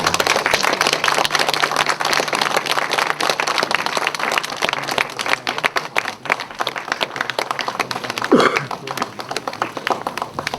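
Steady applause from a lecture audience in a welfare center hall fills the whole stretch, dense clapping at an even level with a brief voice-like sound near the end.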